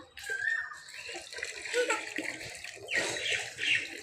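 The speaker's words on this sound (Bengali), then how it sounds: "সবসময় জল ঘেটেই যাচ্ছে" A child splashing and playing in water, with close, bright sloshing and spattering in bursts like hands slapping a filled tub, while someone talks over it.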